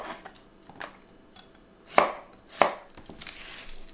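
A knife slices Persian cucumbers on a bias, giving a handful of crisp, close chops, two of them louder, spaced unevenly over a few seconds against a quiet kitchen background.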